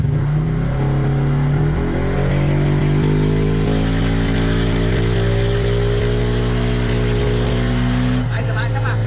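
A remapped MT8 motorcycle engine at full throttle on a dyno makes a loud, steady roar as its pitch climbs through the run, then drops off abruptly near the end.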